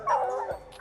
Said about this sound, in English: The dogs are treed on.